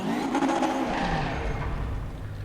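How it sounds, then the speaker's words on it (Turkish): A race car in RaceRoom Racing Experience brakes hard, and its brake pads squeal over a loud, continuous engine roar with tire noise throughout. "Frenlerken balata sesini duyuyorsun."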